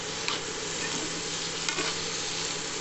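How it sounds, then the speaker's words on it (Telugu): Brinjal pieces stirred with salt and turmeric in a hot pan, a continuous close sizzle with scraping stir strokes throughout. "బాగా కలిపేసి"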